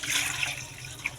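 Water runs into a pot of boiled lentils in a steady, close splashing pour with a brief brighter splash near the end, and no voices.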